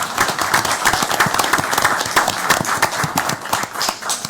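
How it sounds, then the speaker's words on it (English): A crowd applauds steadily, dense clapping from many hands filling the whole stretch at close range, with no talking over it. "How about applause?"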